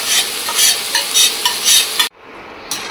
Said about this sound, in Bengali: সবজিগুলো ভেজে নেওয়ার পর এবার ডালিয়া আর মুগ ডালটা মিশিয়ে দিচ্ছি।